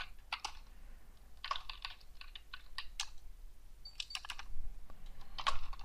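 Someone types on a computer keyboard and presses Enter, with quick bursts of crisp close keystrokes separated by short pauses and a faint background hum.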